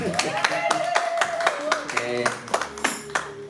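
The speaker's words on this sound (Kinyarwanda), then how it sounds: "Amashyi menshi" Congregation at an evangelical church service in Cedar Rapids, Iowa claps in a quick, even rhythm, sharp hand claps over a sung or spoken voice and tonal music.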